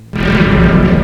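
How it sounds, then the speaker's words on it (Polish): A loud, booming Minecraft explosion from a minefield bursts suddenly and rumbles on for a moment without fading. "Wybuch za wybuchem."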